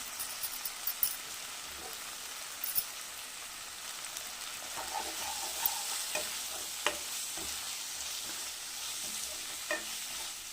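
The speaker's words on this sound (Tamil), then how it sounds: "இப்போ கேரட்டு வதக்கிட்டோம்" Steady sizzling of chopped carrots sautéing in a hot pan, with occasional scraping stirs of a spatula; no voices.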